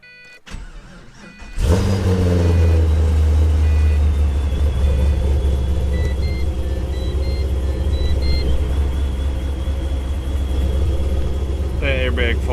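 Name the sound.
supercharged 2006 Pontiac GTO engine starting and idling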